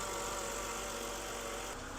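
A 2008 BMW E92 328xi with the N52 inline-six runs at a steady idle nearby, an even, continuous drone with a faint change in tone near the end.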